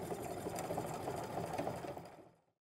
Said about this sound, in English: I'm gonna go ahead and stitch in place a few times there and then cut my threads